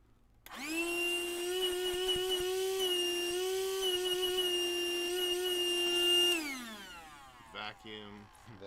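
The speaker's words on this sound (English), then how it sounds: "Some faster drills." A power drill runs fast as a sound sample, a loud sustained high whine holding steady for about six seconds before winding down, followed by brief faint noises.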